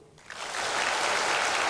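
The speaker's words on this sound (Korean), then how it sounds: "박수" A church congregation bursts into applause during a pastor's sermon, the clapping swelling within a fraction of a second into a dense, steady wash of many hands that carries on to the end.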